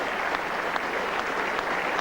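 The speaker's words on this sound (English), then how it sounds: "The crowd standing to Edrich as he leaves the field." A cricket crowd at a Headingley Test match in 1975 applauds a batsman leaving the field, a dense, steady wash of clapping from a large stadium audience that continues throughout.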